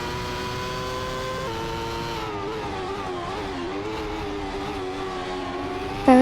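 Race car engines on track in a racing video game, a continuous high-pitched engine whine with rising and falling revs as cars shift and battle for position, steady and loud without pause.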